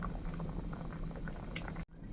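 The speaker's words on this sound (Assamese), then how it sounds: "পুৰা উতলিছে, একদম ভকভকাই উতলিছে" Small new potatoes boil hard in a pot of water, a steady close bubbling and popping that runs on alone before cutting off abruptly near the end.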